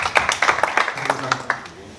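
Scattered clapping from a conference audience at an annual farmers' gathering, a handful of distinct hand claps that fade out, with a voice speaking underneath.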